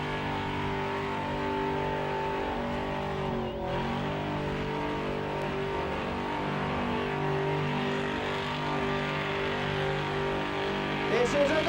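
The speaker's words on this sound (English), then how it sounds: "454 cubic inches of big block Chevrolet in the Impala" A 454 cubic inch big block Chevrolet Impala doing a burnout at a Summernats competition, the engine holding a loud, sustained high-rev roar with shifting pitch, close and constant, over a crowd background.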